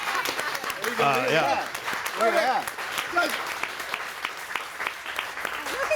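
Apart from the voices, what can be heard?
audience applause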